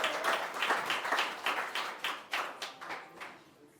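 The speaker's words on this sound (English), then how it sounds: "Can y'all give him a round of applause as he comes down?" Audience at a community kickoff evening clapping for a founding member as he comes down, a moderate round of hand claps with distinct individual claps, steady then thinning out.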